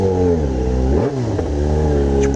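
A Yamaha XJ6 motorcycle engine with a strange knocking-type noise revs loud and close, its pitch dipping and climbing in one blip over a steady running drone.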